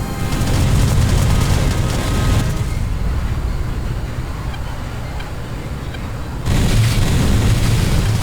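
Valkyrie aircraft colliding in a video game, rendered as a loud, sustained roaring blast of noise that dips briefly in the middle, then flares up again toward the end.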